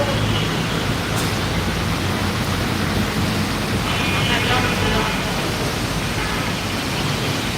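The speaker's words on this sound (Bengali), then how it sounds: "এই মুহূর্তে আমরা দেখতে পাচ্ছি ঢাকায় তীব্র মুসুলধারে বৃষ্টি" Torrential monsoon rain pours down on Dhaka, a dense, loud, unbroken roar of rainfall filling the whole stretch with no pause.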